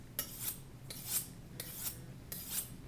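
A knife blade is drawn along a sharpening steel outdoors, heel to tip, in four evenly spaced rasping metal strokes, each a bright scraping sweep about a second apart, heard alone at moderate level.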